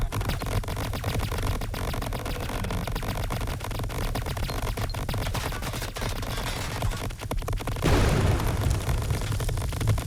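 Incendiary bombs going off in the game Greedland, a continuous barrage of rumbling blasts and crackling bursts layered loudly together, with a heavier boom swelling near the end.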